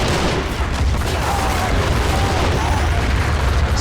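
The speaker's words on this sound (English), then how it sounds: "Artillery taking shots." Artillery fire in the Army Men of War game, a dense, continuous barrage of booms and bursts layered into a loud battle din with no clear gaps.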